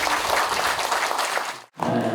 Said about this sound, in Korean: 큰 박수 환영합시다